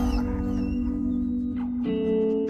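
A former Marine military dog whimpers softly in a few thin, high cries, partly masked by a sustained musical drone.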